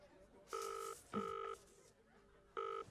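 A phone dials out to place a call, with a few steady two-tone keypad beeps spaced apart, fairly faint and clear.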